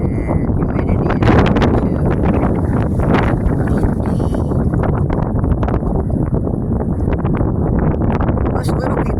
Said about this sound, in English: Most little people fall over with all this wind.